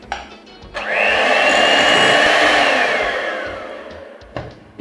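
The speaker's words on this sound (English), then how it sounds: "I'll mix again." An electric mixer whirs loudly and steadily through plantain cake batter just after milk goes in, its motor pitch rising then easing over a few seconds with no talking.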